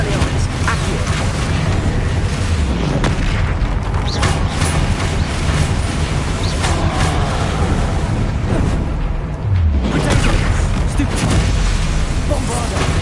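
Bombarda spell blasts in Hogwarts Legacy, a dense, loud wall of booming explosions and rumbling impacts that continues without break, with a voice speaking over the din.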